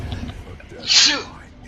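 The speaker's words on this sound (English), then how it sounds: "bit of a sneeze there" One sharp, loud sneeze bursts out close by after some low murmuring, then quiet background returns, during play of the game Darkest Dungeon.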